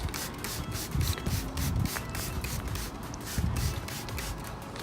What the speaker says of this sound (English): Spray one more time.